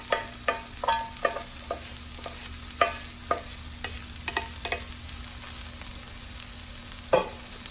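Dried cooked rice stirred and broken up in a hot pan with sausage for fried rice, a rhythm of repeated sharp scraping and tapping strokes over a soft sizzle, close and moderately quiet.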